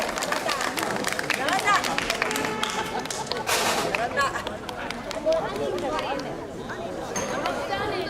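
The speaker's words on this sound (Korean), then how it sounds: "박수 좀 크게 쳐주세요" An audience at a magic show claps through a dense, uneven burst of applause, with chatter and a voice talking over it.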